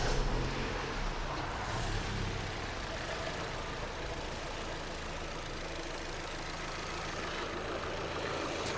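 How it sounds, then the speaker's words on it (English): A Vauxhall Opel Astra engine runs at a steady idle with a continuous low rumble. It starts loud, then holds an even level throughout. No one speaks. "So I can just leave that there and start the car."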